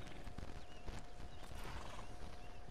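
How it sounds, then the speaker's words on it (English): Horse hooves clip-clopping at a steady gallop in the Red Dead Online game world, a continuous rhythmic beat with occasional whinnies over a busy outdoor background. "There's another guy riding out on a horse."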